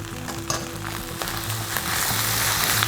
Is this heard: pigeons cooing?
no